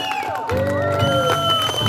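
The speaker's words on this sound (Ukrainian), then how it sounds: "тому оплески вам, друзі" A concert audience bursts into applause with cheers and high whoops, a dense, lively crowd roar sustained close by throughout.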